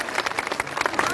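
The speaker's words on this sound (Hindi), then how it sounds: "आइए इनके लिए भी जोरदार तालियां बजा देते हैं" Brief burst of crowd clapping at an outdoor political welcome rally for a BJP candidate, applauding the women present, dense and lively with voices mixed in.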